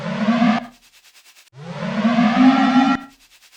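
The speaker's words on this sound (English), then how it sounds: "I want to find a riser. Not a rosa, a riser. I just want to make this sort of building tension." A synthesized riser effect from GarageBand Apple Loops, heard as two loud siren-like swells that climb in pitch, the second longer and cutting off abruptly, with a faint pulsing tail between them.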